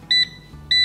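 Air fryer control panel beeping as the temperature and time are set to cook a two-ingredient dough pizza: two short, clear electronic beeps about half a second apart, close and alone.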